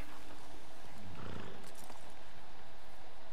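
A horse in Red Dead Redemption 2 moves with soft hoof clip-clops and a brief whinny-like snort, set against a constant, dense game noise bed.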